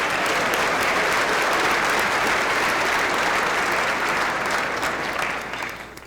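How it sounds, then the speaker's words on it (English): Dense, loud audience applause fills a hall at a chamber of commerce State of the Town event, holding steady throughout before easing off at the very end. "Let's give them one more round of applause."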